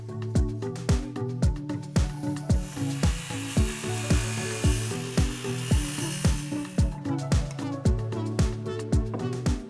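A power saw cuts through a 1-inch-thick scrap of plywood in a fast series of loud, close, evenly spaced bursts, its motor whining steadily underneath, with no talking.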